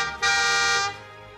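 Cadillac car horns honking in the Mugen fighting game Roadrage in the Forgotten Realms, one loud sustained blare that starts abruptly and cuts off after about half a second, near and alone.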